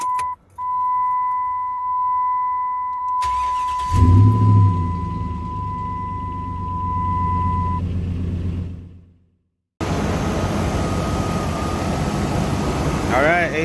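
A 2006 Dodge Ram 1500 starts: a chime beeps first, then the starter cranks briefly and the engine catches into a steady idle that later cuts off before another engine-like roar resumes.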